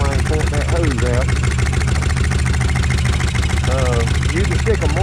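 Kawasaki Vulcan 1600 motorcycle engine idling with noisy lifters, a steady close rumble with fast even ticking throughout, while someone talks over it.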